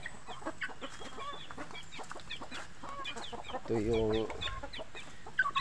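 Chickens clucking and chattering nearby in a busy flock being fed, with a rooster's call rising briefly midway and a short spoken phrase.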